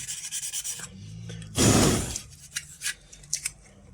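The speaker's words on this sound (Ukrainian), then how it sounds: "можете рівномірно по всьому ось так також зачистити. Але не сильною наждачкою, такою ніжною, тобто зерном дрібним." Fine-grit sandpaper rubs briefly against a dosimeter-radiometer part under repair, a short soft scraping burst amid scattered light handling and rubbing noises, close and quiet.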